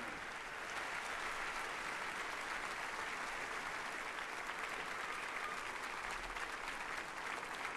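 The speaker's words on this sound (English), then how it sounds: "The crowd are on their feet to show their appreciation for a great final and two great players." A snooker crowd gives a standing ovation after a final, applause steady and dense from start to finish, close and full-bodied without any voices rising above it.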